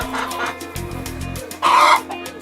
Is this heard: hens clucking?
yes